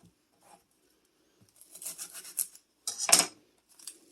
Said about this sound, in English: Go ahead and slit each onion